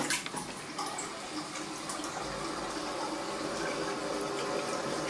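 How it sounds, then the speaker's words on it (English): A household toilet flushing, with water rushing and swirling steadily into the bowl, close and fairly loud, after a brief clunk of the handle at the start. "Here's my toilet, and let's see which way it goes,"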